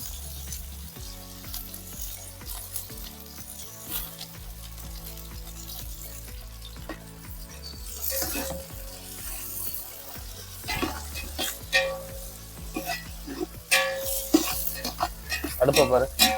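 Ingredients for chicken biryani sautéed in a pan until golden, a steady close sizzle with repeated spatula scrapes and clinks against the metal that grow busier toward the end, while music plays underneath.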